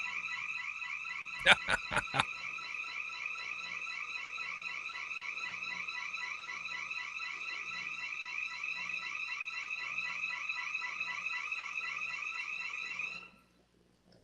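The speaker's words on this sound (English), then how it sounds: "my wife didn't deactivate the alarm." A house alarm beeps continuously in a rapid, steady electronic pulse, with a few sharp clicks early on, then stops near the end.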